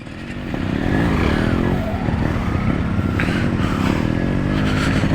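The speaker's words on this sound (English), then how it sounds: "today I am riding the RX 100" A Yamaha RX 100 two-stroke motorcycle rides a dirt trail, its engine droning loud and close with rising and falling revs and gear changes, plus faint scrapes from the ground.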